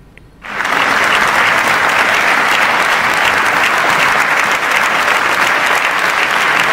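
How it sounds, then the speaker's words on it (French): Sustained, dense applause and a standing ovation from a large crowd at a plenary session of the Parliamentary Assembly of La Francophonie fill a big assembly hall, starting abruptly and holding steady and loud throughout. "sous les acclamations et une standing ovation de la plénière"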